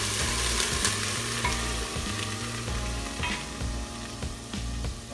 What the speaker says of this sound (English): I've got some garlic in here, I'm sauteing, I'm putting a little white wine in here